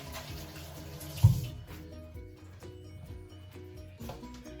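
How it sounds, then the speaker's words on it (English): A kitchen tap runs while hands are washed under it, a soft, steady stream of water with light splashing and one brief louder knock partway through, close by and without talk. "I'm going to give my hands a quick wash"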